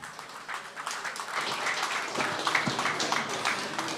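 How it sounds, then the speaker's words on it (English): Moderate applause from a conference audience greeting a speaker at a tech event's fireside chat, many hands clapping steadily for several seconds in a large room. "Please give him a round of applause."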